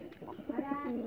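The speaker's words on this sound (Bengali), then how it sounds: "এটা হচ্ছে বোম্বাই কবুতর, এই জোড়াটা বিক্রি করুন" A Bombay pigeon coos softly at close range on a farm, a short low throaty call repeated over about a second, with no talking.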